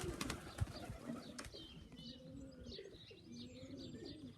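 Pigeons coo softly in a loft area with faint chirps and a brief wing flap, low and somewhat distant over quiet background.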